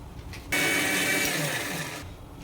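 A mixer grinder grinding chickpeas roars on abruptly, whirring loudly and steadily for about a second and a half before cutting off.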